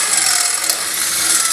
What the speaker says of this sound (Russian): я подворачиваю дрель, потому что я вижу, что отверстие начинает смещаться